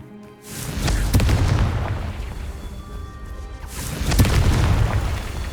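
Confringo blasting curse explosions in the video game Hogwarts Legacy, two heavy booming blasts, one near the start and another a few seconds later, each trailing into a rumbling crash, loud and close with no talk.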